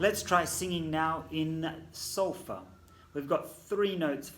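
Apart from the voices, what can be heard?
No everyday noise stands out behind the speech.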